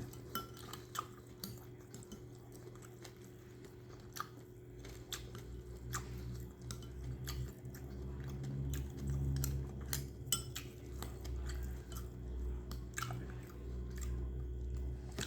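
Someone chews soggy Thai pork rinds (khaep mu) close up, with soft wet squishy bites and occasional faint clinks of cutlery and a bowl, quiet and irregular throughout.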